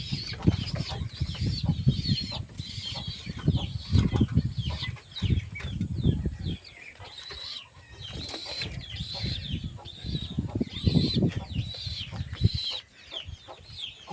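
Pigeons beat their wings in repeated bursts near a coop, mixed with clucking and cooing calls from other fowl, loud and close with no talk.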